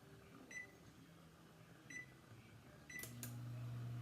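An oven control panel gives a few short electronic beeps as it is set to preheat to 350 degrees, spaced apart over a faint room hum, followed by a steady low tone as the oven starts up.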